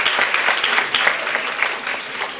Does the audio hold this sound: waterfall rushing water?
no